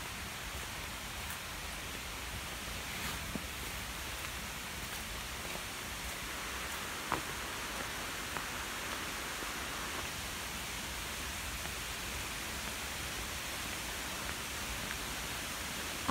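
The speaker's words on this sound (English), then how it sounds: "and the waterfall is this way" A waterfall in a country park gives a steady, even wash of falling water that holds unchanged for the whole stretch, fairly soft and with no voices.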